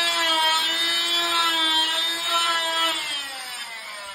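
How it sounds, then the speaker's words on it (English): A saw plunge-cuts into the foam of an ICF wall, giving a steady, loud, high motor whine that holds for several seconds and then dips slightly in pitch near the end. "I just do a couple plunge cuts"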